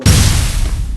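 A grenade blast in the shooter game Free Fire, a single loud, deep boom that hits sharply and then rumbles out over about a second.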